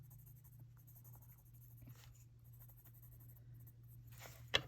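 A Crayola Signature colored pencil glides over paper in soft, close, quiet scratching strokes, with a sharp tap at the very end.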